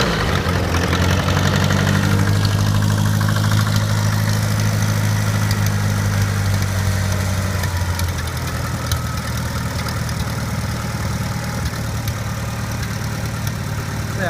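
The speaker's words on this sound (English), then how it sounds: "Didn't even think about not starting. 1956, fired right up." A 1956 Farmall Cub tractor engine running at idle, a loud, steady low rumble with a deep throbbing drone that eases off partway through, close by, with no voices.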